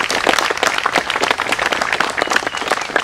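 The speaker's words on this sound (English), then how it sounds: "I want to acknowledge all the veterans in the crowd with a round of applause." A Memorial Day crowd in Melrose gives veterans a round of applause, loud, close, continuous clapping from many hands throughout.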